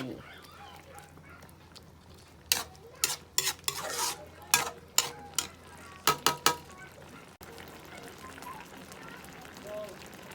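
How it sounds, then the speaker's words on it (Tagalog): Ginataang gabi, taro simmering in coconut milk, is stirred in a pan: clusters of close scraping spoon strokes with a faint bubbling sizzle underneath, separated by quieter pauses. "haluin lang po natin hanggang sa maluto ang ating gata para ready to serve na ang ating ginataang gabi"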